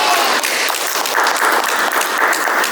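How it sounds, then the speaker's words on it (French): A studio audience claps for a contestant on a dating game show, a dense, loud burst of applause that holds steady for a few seconds before cutting off. "Applaudissez-le."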